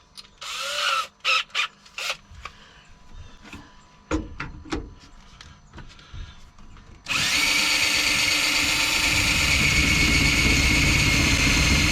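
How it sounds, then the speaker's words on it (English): Scattered clicks and handling knocks, then a power drill with a 1/4 inch bit starts up and runs steadily, loud and close, drilling a hole in a van for several seconds until the end. "I'm gonna go ahead and drill that other hole"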